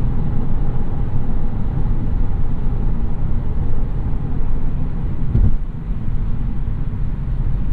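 Inside a 2017 Lexus GS 200t on the move, a steady low wind rush and road hum fill the cabin, with a brief louder thump midway.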